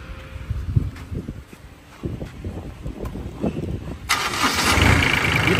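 Low clattering knocks and thumps, then at about four seconds the diesel engine of a Honda Mighty-130D mini tiller bursts into life with a loud, steady, rough roar.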